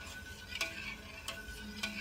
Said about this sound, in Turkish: Önce şeker iyice eriyene kadar karıştırıyorum.